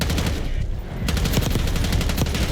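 Rapid automatic gunfire rattles in Black Ops 6, with dense repeated shots. There is a short lull after the opening burst, then another sustained string of loud, close shots.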